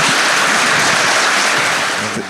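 Audience applause for tennis player Juan Martín del Potro at an intimate talk event, a dense, steady wash of clapping that holds loud throughout and tapers slightly at the end.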